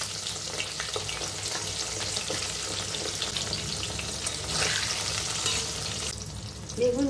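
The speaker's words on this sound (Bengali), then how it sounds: "বেগুনগুলোকে হালকা লাল করে ভেজে তুলে নেব।" Eggplant pieces frying in hot oil for a Bengali sukto, a steady close sizzle and crackle throughout with occasional stirring clatter and a brief clink near the end, no talk.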